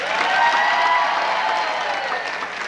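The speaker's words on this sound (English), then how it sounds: "I want you to believe this audience is going to give us a huge round of applause" A crowd applauding steadily, a dense wash of clapping that holds at an even level for a few seconds without pause.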